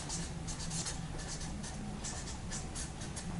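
A marker writes on a paper chart, close, quiet and continuous squeaky strokes arriving in short repeated bursts.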